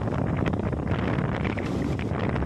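Speedboat driven by three outboard engines running at speed in strong westerly wind, a loud continuous engine roar and hull rumble buffeted by heavy wind noise throughout, with no talking.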